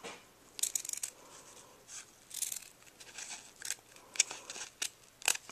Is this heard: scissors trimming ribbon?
yes